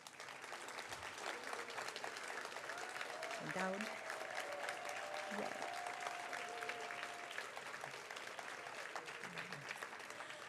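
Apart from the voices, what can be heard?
audience applause for scholarship donors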